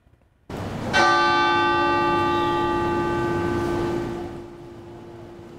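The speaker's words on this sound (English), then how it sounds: "that bell rang once every minute for the 21 victims killed" A single church bell tolls once at an outdoor vigil for school shooting victims in Uvalde, a loud close strike that rings with a long, slowly fading hum over several seconds, no voices.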